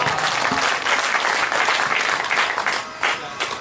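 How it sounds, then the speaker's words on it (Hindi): An audience at a Hindi comic poetry recital breaks into sustained, dense applause, loud and continuous, fading slightly near the end with no speech over it. "तो ताली बजाना"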